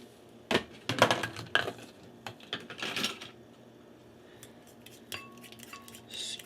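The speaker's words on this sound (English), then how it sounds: "Just give it a quick stir." Short bursts of metal utensil clinks and scrapes against a dish, several quick strikes early then sparser taps, close and fairly quiet with no talk.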